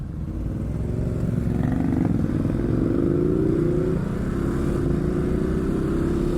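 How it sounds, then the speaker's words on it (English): A 2020 Ducati Supersport S sport bike engine runs steadily and loudly close by, its throaty drone rising and falling smoothly as the revs climb, with no talk over it. "The engine sounds very nice."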